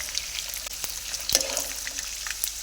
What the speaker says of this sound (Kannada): ಹಸಿ ಕಡಲೆ ಬೀಜ ಹಾಕಿ ಸ್ಟವನ್ನು ಸ್ಲಿಮ್ಮಲ್ಲೇ ಇಟ್ಟು ಸ್ವಲ್ಪ ಬ್ರೌನಿಷ್ ಕಲರ್ ಬರೋವರೆಗೂ ಸಣ್ಣ ಹುರಿಯಲ್ಲಿ ಹುರಿಯಿರಿ